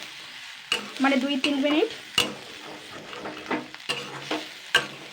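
Fish roe tossed with Maggi masala in a hot pan, a close, crackling sizzle with repeated scraping stirs and sharp utensil knocks against the pan, while a voice briefly speaks over it.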